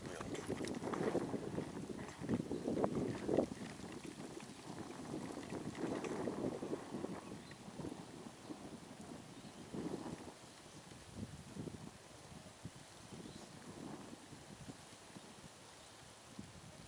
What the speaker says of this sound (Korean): 바람이 세서 엄청 세네요.